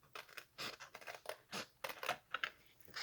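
Scissors trim paper for a gift card and treat box in a quick series of close, crisp snips with short pauses, about a dozen cuts in a few seconds.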